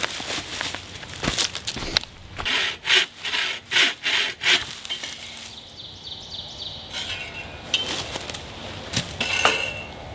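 Hand saw strokes rasp through wood in a quick, regular back-and-forth rhythm of about eight pulls, close by, followed by scraping and handling noises.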